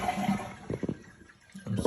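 A dual-flush toilet flushing to drain its tank after the supply valve was shut: a broadband watery rush, a brief gurgle, a quieter lull, then the rush resumes.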